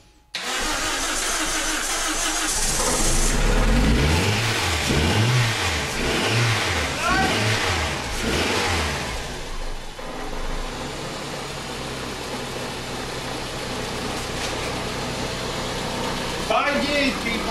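A Toyota Celica engine, parked for five years, cranks and catches, then revs in several rising-and-falling bursts before settling into a steady idle, loud and close, with people talking nearby.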